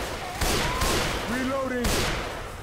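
Gunfire crackles through Left 4 Dead 2 combat in a steady, dense stream of bursts, with voices talking over the shooting.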